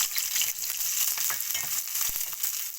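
Onions, dried red chilies, green chilies, cumin and garlic fry in oil for a mung dal dish, making a bright, crackling sizzle with a few stirring knocks, close and continuous.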